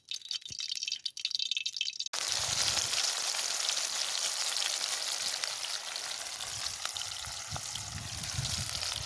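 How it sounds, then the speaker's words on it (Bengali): Oil heating in a pan over an open fire built in a field: a few faint crackles, then a sudden, continuous loud sizzle with hissing and popping that carries on to the end. "তেল গরম হচ্ছে।"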